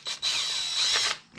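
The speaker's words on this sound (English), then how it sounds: "I'm going to go ahead and shoot off the coil bolt holding it in" Power drill with an 8 mm socket spinning out an ignition coil bolt on a 2006-2009 Ford Fusion 2.3L, a short burst of high whining motor followed by a longer steady run that stops abruptly, close and loud.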